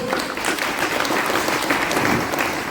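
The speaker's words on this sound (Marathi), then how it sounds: "सगळ्यांनी टाळ्या वाजवायच्या विरोध" A crowd at a political rally applauds in a dense, steady burst of clapping that holds throughout.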